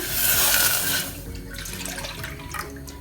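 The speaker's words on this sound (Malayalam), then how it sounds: "ഇതിലേക്ക് ഞാൻ ചേർക്കുന്നത് 1 കപ്പ് ഫുൾ ക്രീം മിൽക്കാണ്" Full cream milk poured into a saucepan, a loud splashing liquid stream close by for about a second, then settling into quieter trickling and dripping.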